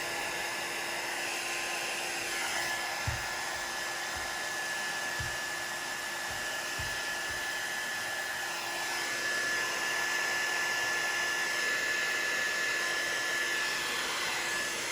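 Steady broadband blowing of a hair dryer or heat gun warming wax into a Filson waxed cotton jacket, continuous and close throughout with a constant tonal whine, a few soft low thumps of handling near the start, no speech.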